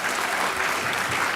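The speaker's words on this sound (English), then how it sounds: "let's give them a round of applause." An audience at an AGM opening ceremony applauds, a dense, steady wash of clapping filling the whole moment without pause.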